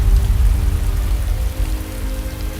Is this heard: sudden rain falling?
yes